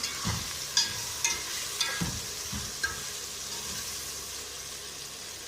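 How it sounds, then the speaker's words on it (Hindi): Spices frying in a pan for Shinwari chicken chole make a low, steady sizzle, with several light clinks and scrapes of stirring scattered across it. "मसाले इसके अंदर चले गए और इसको हम अच्छी तरह फ्राई करेंगे"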